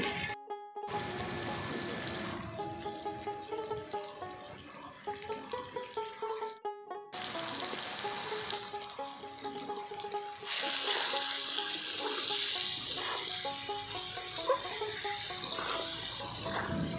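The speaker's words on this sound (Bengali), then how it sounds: "এবার একটু জল দিয়ে দেব।" Water runs and splashes into a raw mango pickle mixture, spiced with dried chilli powder and green chillies, in a kitchen. The pour is steady and close, with brief breaks and a fuller, louder gush in the second half.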